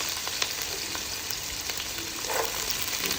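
Chopped onion and carrot fry in about three spoons of hot oil for a vegetable biryani, giving a steady, dense crackling sizzle close by throughout, with no talking.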